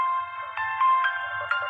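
A phone text message notification tone sounds in a school setting, a clear electronic melody of several short rising notes with steady tonal harmonics, close and alone without talk.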